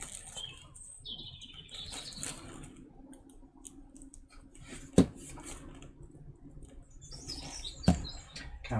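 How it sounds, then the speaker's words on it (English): Birds singing nearby, with a quiet run of chirps and tweets over low background noise, interrupted by two sharp clicks like light tabletop knocks. "Karen says, love the bird song."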